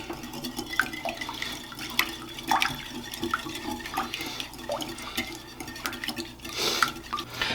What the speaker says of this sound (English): plus 2 egg yolks and a teaspoon of vanilla. We're just going to whisk this all together here.